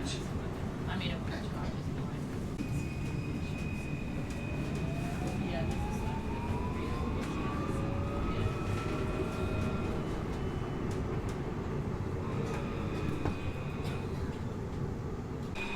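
Rumbling interior of a moving Melbourne tram with steady rolling noise and a rising motor whine; an announcement voice speaks faintly over the hum.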